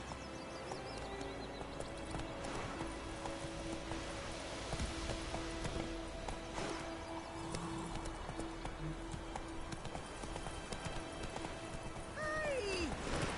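Roach the horse gallops in The Witcher 3 with a steady stream of hoofbeats over a quiet ambient background, and a brief whinny or rider call comes near the end.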